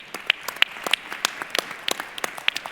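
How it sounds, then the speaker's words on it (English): A small audience claps at a minerals industry panel session, sparse individual handclaps in an uneven rhythm, close and fairly distinct, with no voices over it. "if you can give a round of applause to Your Excellency and the winners of the program"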